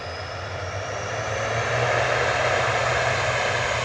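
Loganair ATR turboprop departing Manchester Airport for the Isle of Man, its loud propeller drone and engine roar building steadily and close, with no voices.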